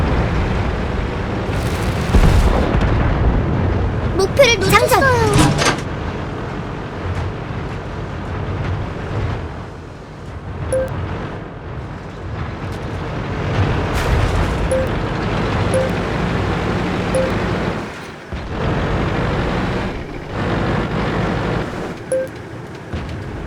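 Tank cannon blasts boom out in World of Tanks while driving a WZ-132 on a southern coast map: a few heavy, loud shots stand out over a constant engine rumble and battle noise.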